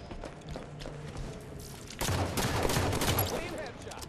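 Gunfire in the Halo 5 Guardians video game for a headshot: a quieter stretch gives way to a loud, dense burst of shots about halfway through, with crackling impacts continuing under game noise.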